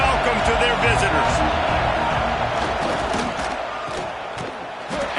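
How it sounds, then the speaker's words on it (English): A loud college football stadium crowd in a video game roars in a dense, sustained wall of cheering and yelling that eases slightly toward the end, with a voice speaking over it. "This crowd bringing an ear-splitting welcome to their visitors."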